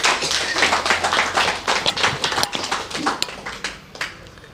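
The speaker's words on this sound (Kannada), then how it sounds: "ಅವರಿಗೋಸ್ಕರ ಜೋರ ಚಪ್ಪಾಳೆ ಮಾಡಿ ಅಪ್ಪಮ್ಮ" Parents in an audience clap loudly together, a busy crackle of many hands that holds steady for several seconds before thinning to a few isolated claps at the end.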